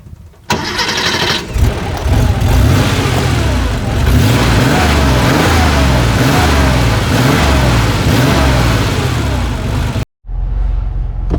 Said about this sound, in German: Fahren wir mal ein paar Meter.